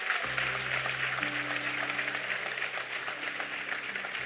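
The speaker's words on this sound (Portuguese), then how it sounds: "Então aplauda Ele por isso aí, em nome de Jesus." A church congregation applauds steadily, broad clapping sustained for several seconds over a low held organ or keyboard chord, with no voices.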